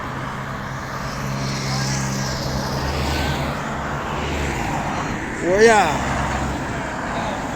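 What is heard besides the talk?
car traffic passing on road in Porriño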